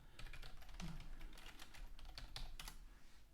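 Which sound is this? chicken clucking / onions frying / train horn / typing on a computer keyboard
typing on a computer keyboard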